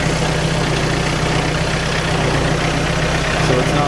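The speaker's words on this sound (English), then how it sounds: "I'll try to keep the engine down just a little bit" Engine idling at low revs, a steady low rumble with a constant harmonic drone that stays even and close throughout, with no voices over it.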